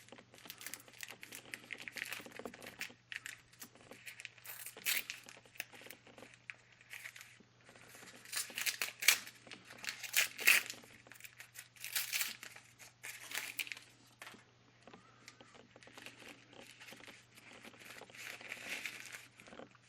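Modern toilet paper with a small paper strap being unwrapped and handled: irregular crinkling and rustling bursts, close and fairly quiet, with brief pauses between handling, alone.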